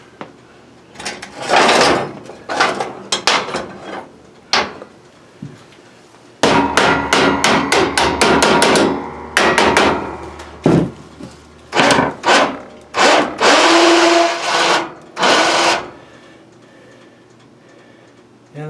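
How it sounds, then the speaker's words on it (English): Repeated sharp wooden knocks and bursts of hammering while reanchoring a lift table, irregular and close, with short pauses between flurries. "Need a hammer"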